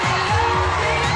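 A massive crowd at the 1986 MTV Video Music Awards roars with dense, continuous cheering and whoops, loud and close, with a low rhythmic thumping beneath.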